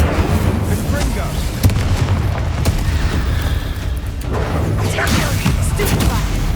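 Fiery spell blasts from Hogwarts Legacy boom out in a cluttered sequence of loud impacts and crackling bursts, several heavy thumps overlapping with ongoing game effects.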